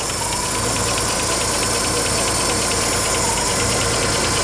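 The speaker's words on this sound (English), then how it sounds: "Goes into a nice smooth idle." Engine of a 1929 Chevrolet huckster truck settling into a smooth idle, a loud, close, steady mechanical chugging and rattle with even rhythmic pulses throughout and no voices.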